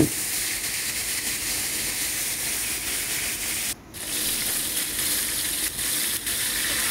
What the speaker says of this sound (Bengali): মাছগুলোরে কেটে নিয়েছি, এখন ফ্রাই করব। ফ্রাই চলে যাচ্ছে।